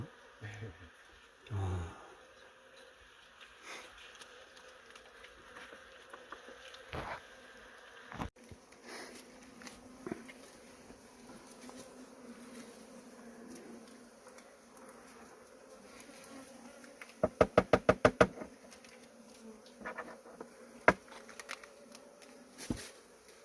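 Small native Korean honeybees at a hive during the honey harvest, faint scattered buzzing with a quick burst of rapid fluttering near the end, occasional handling knocks, quiet and close.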